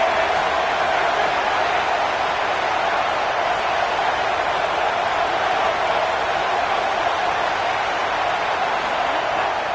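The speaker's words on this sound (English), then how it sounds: "Decibels rising as the crowd gets behind this defense on third down." A football stadium crowd roars steadily at a preseason game on third down, a dense, continuous wash of cheering and noise that holds at an even level throughout with no distinct voices standing out.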